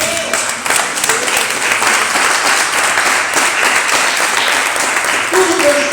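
A church congregation applauds steadily and loudly throughout, a dense wash of clapping with a voice faintly audible beneath it.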